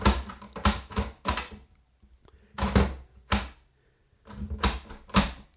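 A cheap cassette recorder mechanism clacks as its buttons are pressed. Sharp, close clusters of clicks and clunks come in short bursts separated by quiet gaps, with no talk over them.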